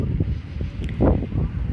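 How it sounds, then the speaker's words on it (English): Wind buffeting a microphone outdoors at a bluegrass jam in Glen Maury Park, Buena Vista, Virginia: low rumbling gusts with soft rustle, steady and close, one brief stronger puff near the middle. "Sorry about the wind."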